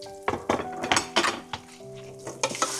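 Chopped garlic and ginger stirred in a frying pan for Malabar chicken curry, sizzling loudly up close with quick scraping strokes and a couple of spoon knocks against the pan, no talking.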